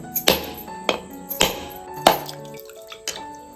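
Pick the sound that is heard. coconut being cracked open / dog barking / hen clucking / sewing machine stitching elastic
coconut being cracked open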